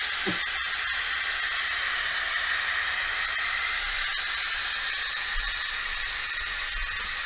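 Loud, continuous steam hiss from an Instant Pot pressure release valve while making beer cheese soup, steady and close for the whole stretch, with no voices.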